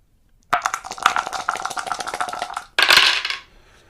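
Four combat dice clatter and roll across a tabletop during a HeroQuest board game, a dense burst of rattling clicks followed by a brief pause and a second sharp rattle, close and alone.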